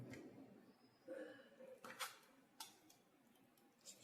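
Cooked rice being mixed with thick first coconut milk and cumin for Vishu katta in a kitchen vessel, heard as soft scraping and a few clinking utensil taps against the pot, faint and intermittent.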